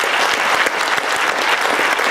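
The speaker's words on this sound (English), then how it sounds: "Give them a round of applause" An audience applauds the Friends of the City Library at a book talk, with dense, steady clapping filling the room.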